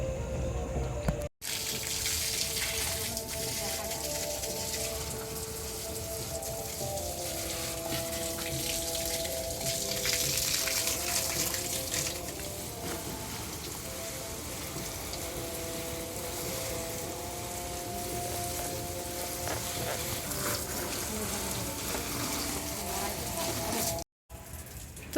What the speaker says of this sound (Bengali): এখন গাছে জল দিয়ে দিই